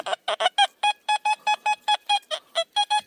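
Metal detector in a forest giving a strong signal over a buried threaded iron object: a fast run of about sixteen loud, evenly spaced electronic beeps, each short and bright, repeating steadily with no talk.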